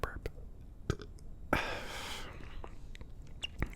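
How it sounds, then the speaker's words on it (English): A single soft burp lasting about three-quarters of a second, close and quiet, set among faint mouth clicks and whisper-level sounds. "I'm going to burp"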